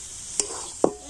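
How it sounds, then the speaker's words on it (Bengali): Spiced potato filling with coriander leaves and garam masala is stirred in a pan, a faint low sizzle broken by two distinct spoon knocks or scrapes, close and without talk. "তো ধনেপাতা আর গরম মশলাটা আলুর সাথে ভালোভাবে এইভাবে নেড়ে চেড়ে মিশিয়ে নেব"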